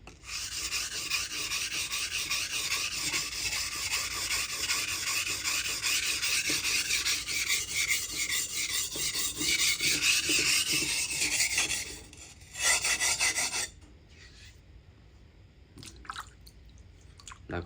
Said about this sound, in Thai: จะใช้หินพวกนี้นะครับในการขัดตรงรอยคมนะครับ ขัดสนิมออก